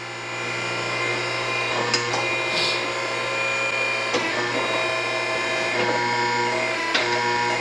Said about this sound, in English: whichever way I move the levers is the same way the machine operates